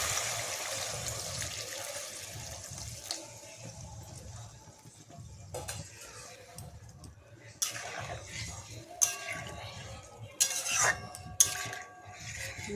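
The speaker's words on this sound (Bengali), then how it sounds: "এরপর এর মধ্যে ওই যে সেদ্ধ করে রেখেছিলাম মাংসের জলটা, ওইটা দিয়ে দেবো" Meat stock from boiled chicken is poured into a pot of yogurt chicken, a soft trickling wash under quiet room hum, followed by clinks and scrapes of a spoon stirring against the pot.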